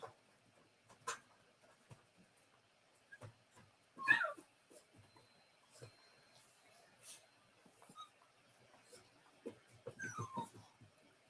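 Puppies whimpering faintly in a quiet room at bedtime, scattered soft whines and yips spread irregularly across the stretch, with one louder cry near the middle.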